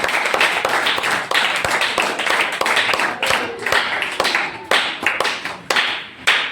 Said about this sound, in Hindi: जोरदार तालियां से आमंत्रित करते हैं।